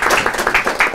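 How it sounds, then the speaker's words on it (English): Audience applause after a speaker closes a panel discussion on Europe-Africa relations, a brief burst of steady, fairly loud clapping from a room full of people. "Applaud."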